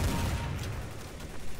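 Gunfire from the video game Counter-Strike: Source, a brief close burst of rapid shots that fades within about a second and a half, with no voices.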